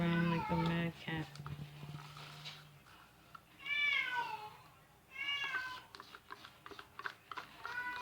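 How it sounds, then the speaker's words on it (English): A pet cat meows several times while running around indoors, rising calls clear and fairly close among quiet room sounds. "My cat is still running around like a mad cat."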